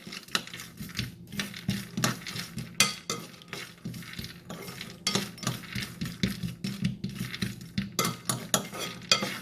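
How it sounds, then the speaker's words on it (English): Peanuts and sesame seeds roasting in a hot pan, a spoon scraping and stirring in steady rhythmic strokes with light clinks against the metal over a soft dry sizzle, close and moderately loud. "So in that I am going to add the peanuts and sesame seeds to roast."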